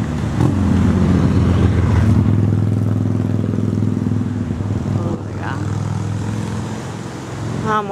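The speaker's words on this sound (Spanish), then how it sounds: "Ya, moto." A motorcycle engine hums steadily on a rural road beside a river and a house in the Pocono area of Pennsylvania, a low droning passby that fades somewhat midway before rising again.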